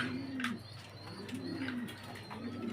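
Low, soft coos from a pair of homer pigeons repeat three times at a steady pace, close by, with faint chirps and background hiss between them.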